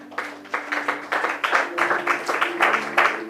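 A church congregation applauds together in a steady, moderately loud rhythmic clapping that swells and continues, with organ or keyboard tones sustained underneath.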